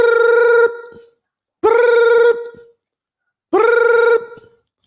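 A telephone rings loudly and clearly, three long electronic rings separated by short silences, with no other sound in between.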